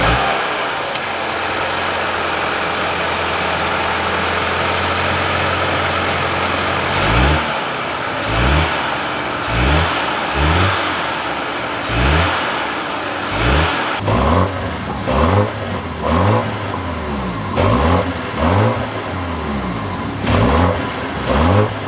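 A 2025 BMW X1 M35i with a turbocharged inline-four starts up and idles steadily, then gives a series of sharp, loud throttle blips that rise and fall in quick succession.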